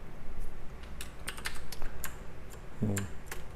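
In 3ds Max, a user holds Alt and the mouse wheel on a computer setup while a keyboard and mouse click and tap in quick, irregular bursts. The sounds are close and fairly quiet, with no speech.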